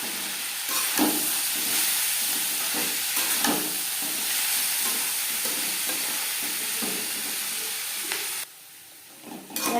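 Vegetables with cashews and raisins fry in a pan for veg fried rice, a steady close sizzle and hiss broken by repeated scraping stirs, then a brief quieter pause near the end.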